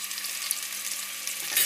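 Onion and garlic sautéing in oil with a pinch of salt, giving a steady, fairly quiet broadband sizzle and crackle with no talk, growing slightly brighter near the end.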